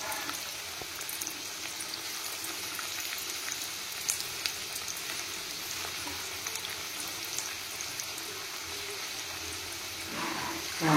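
Bora fritters fry in hot oil over a lowered gas flame, giving a steady, close sizzle with a fine crackle. The sound holds even throughout, with a small bump in loudness at the end and no talking.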